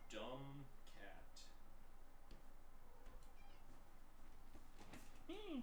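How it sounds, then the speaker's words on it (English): A pet cat meows in a home during a Magic card game session, with a couple of short harmonic cries near the start and end, heard amid steady background noise and talk. "You dumb cat."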